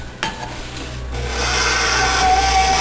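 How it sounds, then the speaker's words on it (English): Stand mixer stirring softened butter for banana bread, a steady close motor whir that starts after a brief clunk and grows slightly louder and more even as the beater turns. "Now, let's set the mixer to stir."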